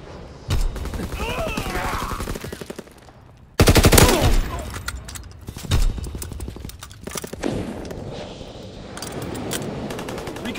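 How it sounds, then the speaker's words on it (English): Strafing aircraft gunfire in the video game Call of Duty WWII, with rapid machine-gun bursts and heavy fusillades rattling loudly in several waves alongside thuds and game voice callouts. "Strafing the target."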